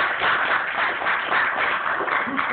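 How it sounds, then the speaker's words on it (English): An audience at a talk gives a big round of applause, a dense and steady wash of clapping that is loud and close and holds evenly from start to end. "How about big round of applause for those folks?"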